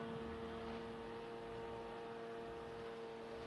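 The engine of a tri club race boat drones steadily and faintly from a distance at a 2019 club day, a constant humming tone with the propeller slipping and cavitating on the water.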